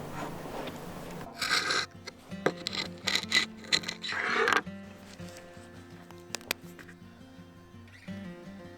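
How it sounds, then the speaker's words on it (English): Old silicone sealant being scraped off a surface, heard as close, uneven bursts of rasping and scraping strokes, then quieter with a steady background hum. "Taking off all the old silicone that is there, pieces over, so we can clean it and then we put the new one."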